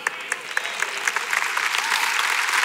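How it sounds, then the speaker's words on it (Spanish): A church congregation at a sermon by Pastor Cash Luna claps together, a dense wash of applause with scattered sharper claps standing out, building slightly over a few seconds. "Dale fuerte el aplauso."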